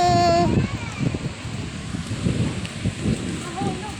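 Sea wind buffets and rumbles across the microphone in gusts at Oroquieta City, with faint surf-like noise and brief talking underneath.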